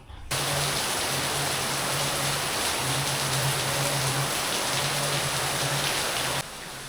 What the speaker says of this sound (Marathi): बाहेर मस्तपैकी पाऊस पडतोय